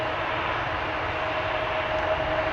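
An American Airlines airplane at Amsterdam Schiphol Airport gives a steady, loud engine roar with a thin high whine, continuous throughout.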